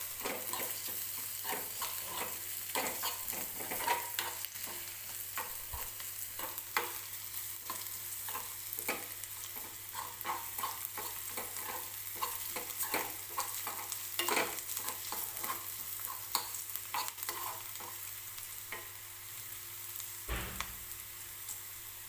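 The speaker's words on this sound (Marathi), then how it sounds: "गाजर खूप जास्त वेळ नाही तेलामध्ये परतायचं, एखादा मिनिटभर फक्त परतून घेणार आहे मी" Carrots sautéing in hot oil in a home kitchen, a soft, continuous sizzle broken by frequent scraping and clinking from stirring, fairly quiet and close, with no talking.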